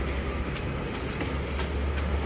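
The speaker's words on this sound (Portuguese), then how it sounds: "Nunca vi um trem desse tamanho, não, velho." A very large freight train rumbles past in Itatim, a loud continuous low roar with faint rhythmic wheel clatter, close by and steady throughout.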